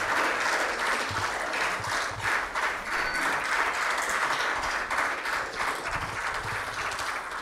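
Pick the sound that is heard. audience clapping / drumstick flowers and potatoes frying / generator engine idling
audience clapping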